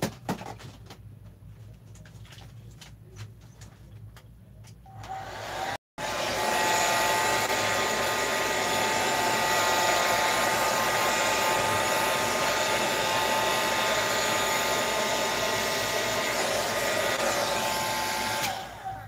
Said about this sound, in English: let me dry the paint up at the top here